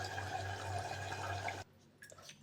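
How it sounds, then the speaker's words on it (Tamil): Sambar with vegetables and dal simmering in a pot of water, a steady close bubbling and churning for most of the moment before it abruptly drops to quiet, with a few faint drips and clinks after. "கொதி வந்துட்டுருக்கு"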